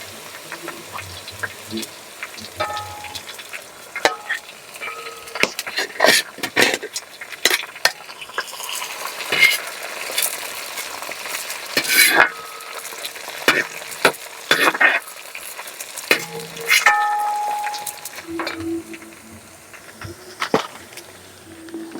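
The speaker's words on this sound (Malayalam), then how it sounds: "ഇനി നമുക്ക് ഇഞ്ചി പച്ചമുളക് വെളുത്തുള്ളി മൂപ്പിച്ചിട്ട് കൊടുക്കാം" Ginger, green chilli and garlic frying in oil in a pan while being stirred, a steady sizzle broken by sharp scrapes and clinks of a spoon against the metal.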